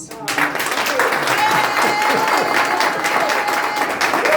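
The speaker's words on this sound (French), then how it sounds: "Un tonnerre d'applaudissements pour Sylvain." Loud, dense applause from an audience at a political gathering, cheering a speaker honoured as a diaspora representative; a steady wash of many hands clapping with some crowd voices mixed in.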